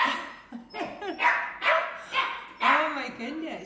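Bernedoodle puppies bark and yip repeatedly in quick uneven bursts, loud and close, with a voice mixed in among the barks.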